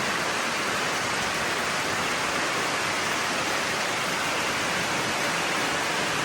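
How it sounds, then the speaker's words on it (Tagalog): Heavy rain pours steadily on a mountainside, a dense, even roar of broadband hiss with no breaks, loud and close, with no voices. "Ang lakas ng ulan."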